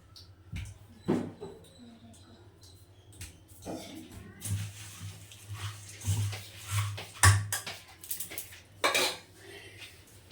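A spoon scrapes and clinks against a bowl while churmuri, a puffed-rice snack, is mixed, giving irregular clattering knocks and rattles over a low steady hum, with faint talk in the background.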